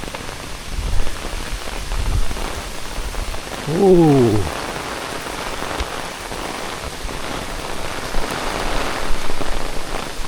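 Sudden heavy rain pours down on section 6 of the Hong Kong Trail, a dense steady hiss throughout, with a brief exclamation from a person and a short sweeping whine partway in.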